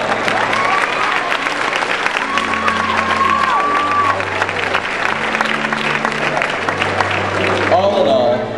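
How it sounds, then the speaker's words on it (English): Audience at a graduation speech clapping and cheering, a dense, steady wash of applause from a crowd that fills the whole stretch, with some voices and whistles mixed in. "okay, we can clap for that"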